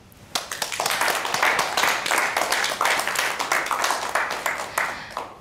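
Warm applause for a new colleague's welcome at a corporate ceremony: dense, steady clapping from a room of people, starting sharply and carrying on evenly for several seconds with no voices over it.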